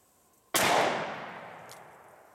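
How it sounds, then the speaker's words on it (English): A single loud report from a Smith & Wesson Model 10 .38 Special revolver, sudden and sharp, then a long decaying echo that rolls away over about two seconds. "Five shots are over and it's pretty much on"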